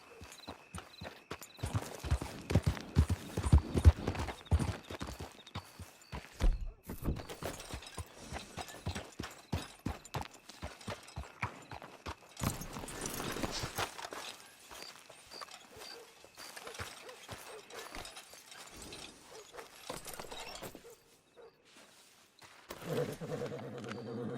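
Hooves of a horse in the Red Dead Redemption 2 video game clip-clop steadily in a walking rhythm, close and fairly loud, with uneven strikes and a brief quieter stretch before resuming.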